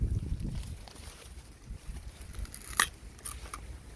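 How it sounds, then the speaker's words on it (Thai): A stalk of sugarcane from a plantation is bitten into close up, giving one sharp, fibrous crunch midway, followed by a few softer cracks and splintering bits of chewing against quiet background. "จะกัดแล้วนะกัดเลยมา"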